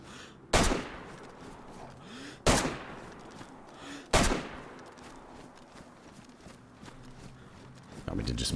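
Gunfire in the Namalsk survival video game, with three sharp broadband bursts about two seconds apart emptying a magazine, each decaying into a background of game ambience and movement.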